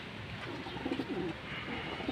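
Pigeons cooing close by in a loft, a few soft rolling coos over a steady background hiss.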